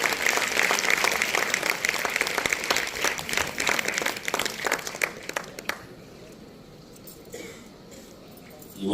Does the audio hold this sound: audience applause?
yes